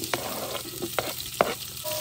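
Onions sizzle with whole spices in a pot, a close, steady fry under a few sharp scrapes and clinks of a spoon stirring.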